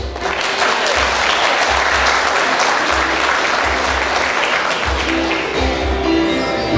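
Loud, sustained applause fills the room at a 45th-anniversary celebration of the ACP for its affiliated clubs, a thick continuous wash of clapping from a large crowd with a low rumble beneath, close and unbroken from start to finish.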